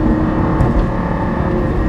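A loud, dense engine roar fills the whole moment, a Lamborghini Gallardo LP560-4 V10 downshifting and running hard, with no voices.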